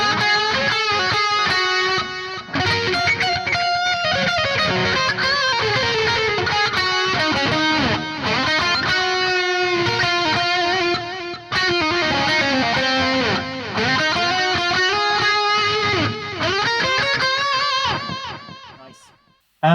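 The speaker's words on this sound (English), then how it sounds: "if you add the feedback, add some length to the delay" Distorted electric guitar through the Audio Assault RVXX high-gain amp sim with a long feedback delay, melodic lead phrases trailing repeating echoes, loud and continuous with brief gaps.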